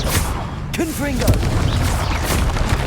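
A booming blast from the Confringo fire spell in Hogwarts Legacy, a single loud burst that rumbles on under a spoken voice during a busy duel.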